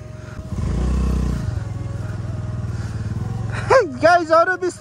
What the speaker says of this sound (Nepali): दरो राइडिङ हुँदैछ हाम्रो स्कुटरको।